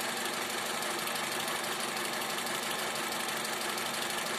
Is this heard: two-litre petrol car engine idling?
yes